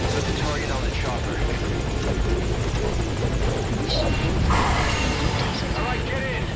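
A helicopter in the video game Metal Gear Solid V: Ground Zeroes thuds and whirs loudly and steadily, close by, while voices talk over the rotor noise.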